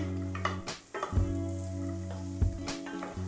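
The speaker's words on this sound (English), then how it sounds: "I started with sauteing the garlic and the onion." Garlic and onion sauté in a pan for a vegan chilli, giving a steady close sizzle and crackle with a few soft scrapes and stirs of a spoon against the pan, no voices.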